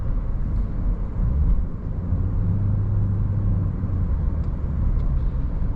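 Steady, close-up drone of a 2005 Mercedes S500 W220 with its big 5.0 V8 while driving, a deep low rumble holding even throughout with a brief swell near the middle.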